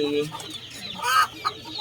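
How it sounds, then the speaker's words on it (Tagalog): Backyard chickens cluck in short, close bursts, with a louder squawk near the middle, over a low background murmur. "papakain sana tayo sa ating mga alagang manok"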